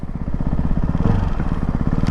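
A Ducati Hypermotard 698 Mono RVE motorcycle with its stock exhaust runs steadily, its single-cylinder engine producing a loud, close, rapid thumping pulse throughout, with no talk over it.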